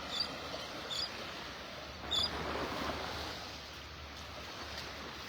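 Ocean surf at Delnor-Wiggins beach in North Naples, Florida rolls in as a steady, faint wash of breaking waves, with a few soft swells rising and no talking.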